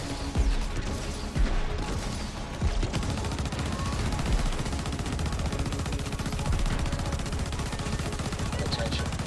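Sustained automatic gunfire in Crackdown 3, rapid loud bursts of shots with crashing impacts, continuous and close throughout.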